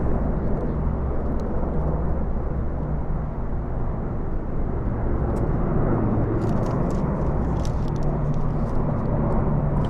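Merlin military helicopters flying past in the Platinum Jubilee flypast, a steady loud rotor and engine rumble that holds throughout, with no talk.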